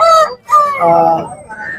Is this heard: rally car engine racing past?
no